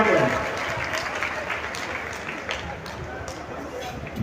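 Crowd at a rally breaking into applause to welcome speakers, a dense, sustained wash of clapping from many hands that gradually thins, with voices faintly mixed in.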